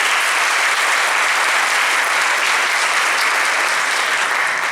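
Continuous, loud applause from a seminar audience honoring Turkish Commercial Code committee members, a thick, unbroken wash of clapping that stays steady throughout.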